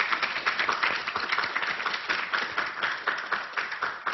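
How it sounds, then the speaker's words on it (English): An audience at a climate change and health panel claps for the panelists in an even, continuous round of applause, moderately loud with individual claps audible in a steady patter. "If we can give them one more round of applause, this is wonderful"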